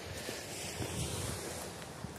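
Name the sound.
ocean waves on the shore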